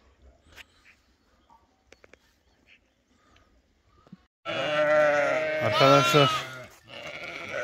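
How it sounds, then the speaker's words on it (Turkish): Sheep and lambs bleat loudly and in overlapping calls close by, the sound bursting in after a quiet stretch of faint clicks and a single spoken word. "Büyük kuzuların anneleri de meğliyor gördüğünüz gibi."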